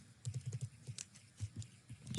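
Quick bursts of keystrokes on a computer keyboard as a router command is typed, an uneven run of close, light clicks with a brief pause midway and a firmer final key press.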